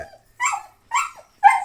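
A dog barks three times in an even rhythm, each bark sharp and fairly close, with brief silences between.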